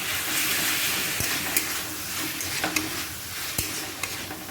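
A spoon stirring Glucon-D powder into a glass of water, with light repeated clinks against the glass over a steady hissing background, close and fairly quiet.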